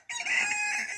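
Chickens on a small farm with goats and ducks call out in a loud, sustained, crowing-like vocalization that fills the whole moment up close.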